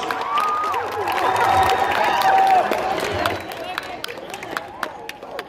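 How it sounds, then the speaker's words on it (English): A school audience at a high school assembly claps and cheers to welcome a National Guard sergeant, a loud crowd burst with shouts that fades toward scattered claps and voices. "Let's welcome him in with a big round of applause."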